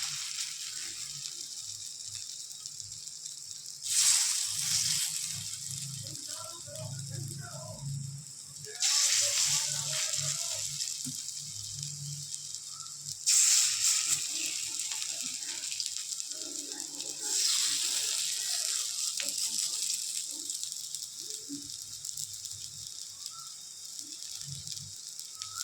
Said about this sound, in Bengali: এবার আমি বড়াগুলো একে একে দিয়ে দেবো